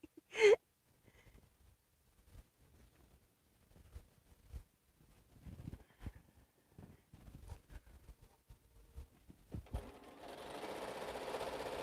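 A sewing machine stitches a quilt row in short, quiet bursts of needle clatter with pauses between them. A steadier whir builds near the end, and there is no talk.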